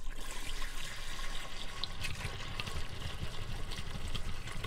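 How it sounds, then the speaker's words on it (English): Liquid poured down a toilet drain in a 2021 R-Pod 193 travel trailer, a steady continuous wash of water running throughout without any talking. "And I'm gonna pour another gallon down the toilet."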